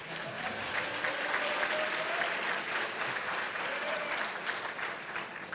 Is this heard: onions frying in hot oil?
no